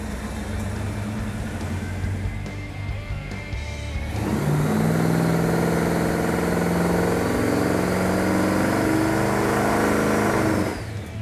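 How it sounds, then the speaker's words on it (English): An old, worn car engine on a dyno, idling unevenly at first and then revving up to a loud, sustained high-RPM roar held for several seconds before dropping off sharply, with no talk. "So I told him to take up a couple hundred more RPM, maybe to 54, 55, and see what it was going to put out."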